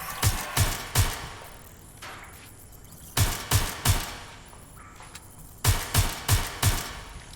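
Bursts of gunfire from the video game Watch Dogs Legion, fired in three separate volleys of three or four sharp, loud shots each, with quiet pauses between them and no talking.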